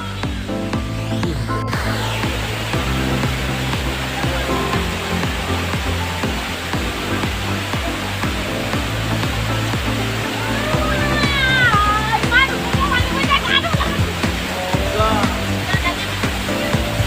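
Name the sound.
mountain stream flowing on the road to Longding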